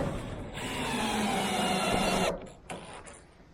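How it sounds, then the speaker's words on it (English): A power driver spins a screw into metal roofing on a 12 x 16 shed. A close, steady whirring runs for about two seconds, then cuts off, followed by a brief clank. "So we'll just put in a few screws here and there."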